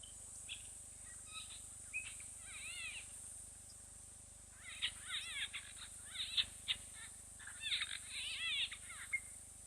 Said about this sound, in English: It's a nice audio of what sounded like greater blue-eared starlings or similar